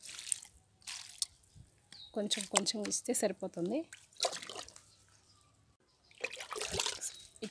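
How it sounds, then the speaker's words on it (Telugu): Water is poured onto garden plants in summer, a soft trickling and splashing that comes and goes beneath steady talking. "ఇప్పుడైతే కొంచెం వాటర్ అయితే ఇచ్చేద్దాము మొక్కలకి"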